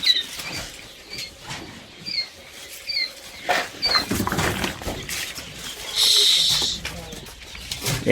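High, thin peeping chirps of quail chicks repeat through the clip, mixed with scuffling, rustling and a voice in the background.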